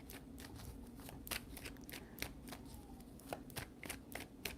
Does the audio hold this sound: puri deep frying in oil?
no